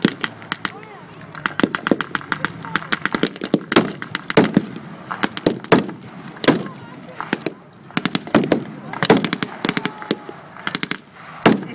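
Rapid bursts of battle re-enactment gunfire crackle in dense, uneven volleys, with sharp louder reports like heavy guns or artillery punctuating an ongoing firefight at an outdoor Ardennes-themed military show; a faint voice sits under the shooting.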